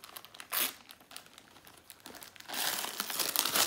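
Wrapping paper crinkling and tearing as a birthday parcel is opened, with a short rustle early on and then a longer, louder burst of crumpling, fairly close and with no talk.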